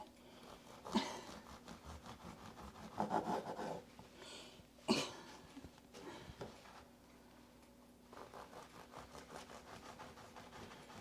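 A coarse knife saws through a crusty, holey French bread loaf, making quiet rasping strokes in short bursts with pauses between them and a few sharper crackles of crust.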